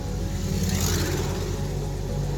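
A Porsche 944 on the move, a steady close engine drone with road and cabin hum and no break in the sound.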